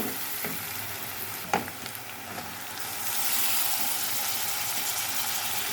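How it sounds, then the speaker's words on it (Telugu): Broad beans fry in hot oil with turmeric for a bean and tomato curry. A steady, close sizzle runs throughout, broken by a sharp clink of a utensil, and the hiss grows slightly louder near the end. "పసుపు పచ్చివాసన పోయాక చిక్కుడుకాయలు వేసేస్తాను."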